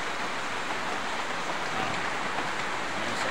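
Steady broadband patter of rain leaking indoors and dripping into a kitchen sink fills the whole span, dense and even, with no distinct individual drips standing out above the wash.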